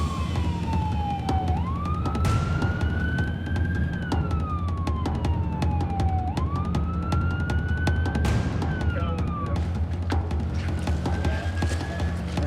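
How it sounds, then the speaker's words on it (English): Emergency vehicle sirens wail in repeated rising and falling sweeps, loud and steady against a constant low rumble of engine or boat noise near a Coast Guard rescue in Florida. "I think I hear the sirens."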